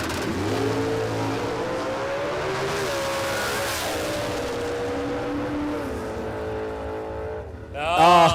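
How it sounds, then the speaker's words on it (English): A drag racing car at Warwick Dragway in Australia revs loud and close, its engine note rising and falling in sustained sweeping pitch changes, then surging to a harsher roar at the very end. "I'm listening to all engine here"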